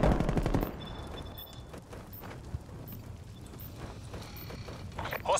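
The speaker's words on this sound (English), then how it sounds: "And I'm hearing footsteps all over the place." Footsteps rattle in a video game battle, quick clattering hoof-like steps under bursts of gunfire, with a louder thump near the start and again at the end.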